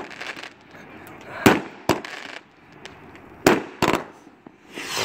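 Firework rockets burst outdoors at night in Moapa, sharp loud booms and crackles arriving at irregular intervals over a steady hiss of ambient noise, with people talking in the background.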